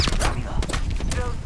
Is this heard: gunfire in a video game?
yes